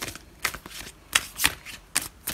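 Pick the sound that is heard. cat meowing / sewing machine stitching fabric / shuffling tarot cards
shuffling tarot cards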